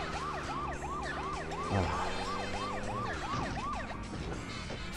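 A police car siren in the video game GTA 2 wails in a fast, regular rising-and-falling cycle over engine rumble, loud and constant, with a brief exclamation from a player.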